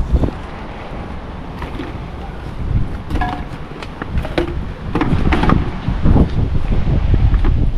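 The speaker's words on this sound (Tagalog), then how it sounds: "sobrang lakas ng hangin" Very strong wind gusting and buffeting the microphone outdoors in Australia, rough low roaring that swells and surges louder in the second half, with brief faint voices mixed in.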